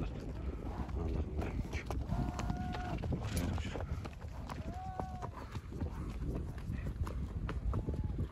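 A herd of horses on summer mountain pasture moves about with scattered hoof clops over wind buffeting, and a few whinny-like calls rise now and then in the distance.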